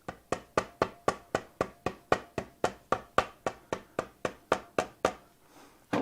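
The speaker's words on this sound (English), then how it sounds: "Find my little rubber hammer if I can. Give that just a little tappy tap" Rubber hammer tapping a part during assembly of a Honda Twin 350 motorcycle engine: a rapid, steady series of about twenty light, close knocks at even spacing, with no talking.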